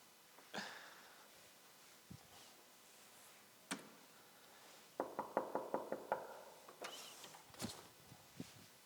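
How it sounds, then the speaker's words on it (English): Knocks sound on an apartment door in a quiet room: a few scattered single raps, then a quick run of about eight sharp knocks, then several more spaced knocks, all fairly faint. "why is somebody keep knocking on the door right now?"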